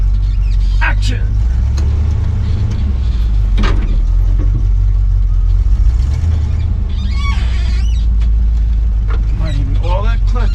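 A V12 engine cold start with a squeaky belt in need of dressing: heavy low rumble and throbbing idle throughout, with intermittent chirps and a voice talking over the engine.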